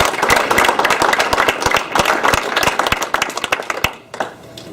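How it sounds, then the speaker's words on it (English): A banquet audience applauds for an honoured player, sharp close handclaps forming a loud, dense round that thins out and fades over the last second. "So let's give a round of applause for Stephanie Linder for Saranac"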